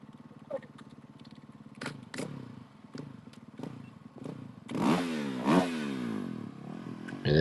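A KTM 450 rally motorcycle idles at the start of a desert rally prologue in Abu Dhabi, its engine putting quietly with a few blips, then revving hard in rising, falling sweeps as it pulls away.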